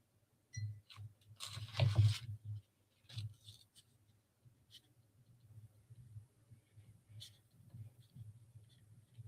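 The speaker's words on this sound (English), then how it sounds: "And I will write mine down as well before we do our energy clearing." A pen scratches on paper as an intention is written down, a few faint close scribbling bursts separated by quiet pauses in an otherwise still room.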